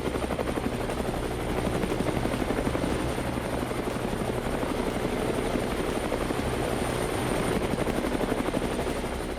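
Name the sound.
helicopter flying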